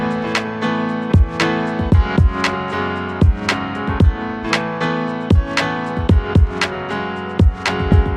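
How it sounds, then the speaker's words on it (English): Guitar chords played on piano, struck one after another in a slow, steady rhythm, each ringing out and decaying before the next, played alone. "If you play them on piano, they will sound like this."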